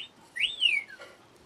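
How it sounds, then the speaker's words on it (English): A short, thin whistling tone from a makeup set rises and then glides down, faint and alone against a quiet background. "And that whistle noise is my makeup set."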